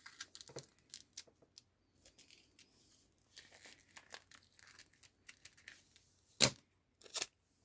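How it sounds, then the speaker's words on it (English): Scissors snipping paper scraps for a junk journal pocket, with soft crinkling and scattered small cuts, plus a couple of sharper, louder snips near the end. "I'm gonna cut off with my scissors"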